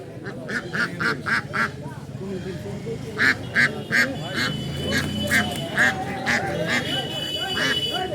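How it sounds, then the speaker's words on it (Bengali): Repeated nasal quacking from several native ducks comes in bursts over a busy crowd murmur at a rural poultry market in Tahirpur, Rajshahi, with people talking nearby throughout. "এখানে বিভিন্ন রকমের দেশীয় হাঁস মুরগি এগুলো বিক্রি হয়"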